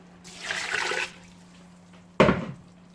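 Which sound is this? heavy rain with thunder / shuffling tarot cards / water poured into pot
water poured into pot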